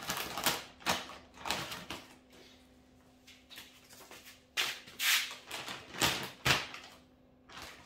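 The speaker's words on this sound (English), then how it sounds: "So we're going to cut this open, get the old Fat Max out." A Fat Max knife slices open a plastic bag of bonsai soil with a series of sharp ripping and scraping strokes, close and crisp, separated by brief quiet gaps.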